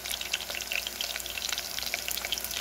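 Rice browning with ginger in a pan for arroz caldo, a steady close sizzle and crackle of frying with light stirring scrapes, no talking.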